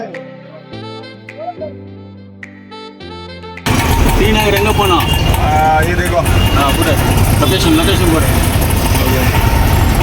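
Auto rickshaws idle at a stand outside a railway station, a loud, steady engine rumble with street bustle that cuts in abruptly after a few seconds of music, with voices talking throughout.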